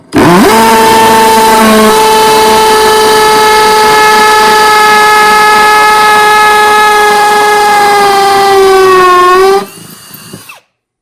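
A loud, steady cordless hammer drill whine, drilling into brick, runs without pause for about nine seconds, pitch sliding slightly, then cuts off and winds down to silence.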